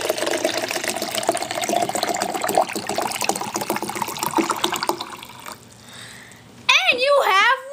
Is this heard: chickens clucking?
no